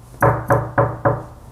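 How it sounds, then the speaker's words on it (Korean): A hand knocks on a wooden desk in a short run of sharp, evenly spaced raps, close and loud in a quiet room. "지금 제가 책상을 3번 쳤습니다"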